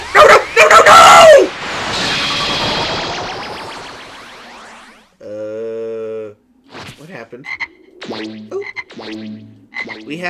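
Frog croaks from Ginyu the Frog in Dragon Ball Xenoverse 2, a low buzzing croak with stacked tones after a loud burst of game noise, followed by several shorter croaks, with a voice speaking briefly.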